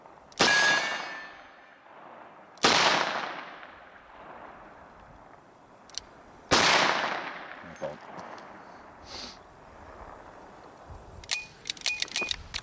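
A Smith & Wesson 686+ revolver with a 3-inch barrel fires .38 Special +P rounds. Three sharp, loud reports ring out several seconds apart, each trailing off, followed by faint clicks and handling noises.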